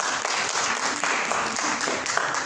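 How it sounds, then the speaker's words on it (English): Dense, steady audience clapping at a youth energy conference fills the room, sustained and moderately loud with no speech over it. "before you start clapping hands"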